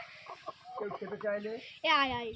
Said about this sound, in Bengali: দেখো আমাদের মুরগি, এটা দেশি মুরগি করানো হচ্ছে